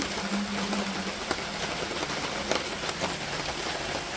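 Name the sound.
rain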